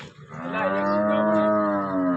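A single long, deep moo from a nearby cow rises and holds steady for about two seconds in an otherwise quiet setting.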